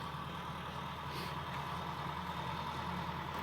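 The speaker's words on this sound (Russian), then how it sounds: "Приехал трактор, вон трактор чистит двор." A tractor's engine drones steadily while clearing snow from a yard during a blizzard, a faint, distant, continuous rumble with no talk.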